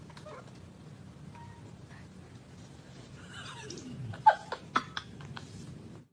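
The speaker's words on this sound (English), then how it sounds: "Just a big old donkey." A large donkey brays in a few loud, hoarse bursts near the end, following quieter snorts and soft background sounds, with a person faintly present nearby.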